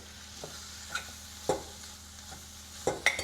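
Paneer bhurji sizzles and is stirred in a pan as a spoonful of water goes in, giving a steady soft frying hiss with a few sharp scraping clinks of the spoon against the pan.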